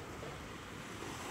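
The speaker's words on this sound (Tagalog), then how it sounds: "At napakalaki nga nating alon." Large, rough ocean waves crashing on the shore on a stormy morning, a steady loud roar of surf and wind noise throughout with no break.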